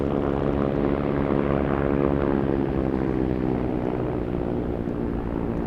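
Pilatus PC-12 turboprop taking off on runway 33 at Anchorage airport, a loud, steady droning propeller roar that holds evenly throughout, distant but powerful.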